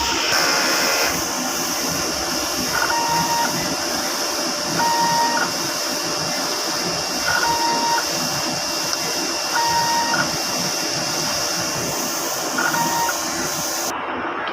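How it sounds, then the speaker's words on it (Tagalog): A DTF printer runs a print head cleaning cycle during shutdown, giving a steady loud mechanical whir with a repeating pattern of short beeps or tones every couple of seconds, no talking. "Head clean."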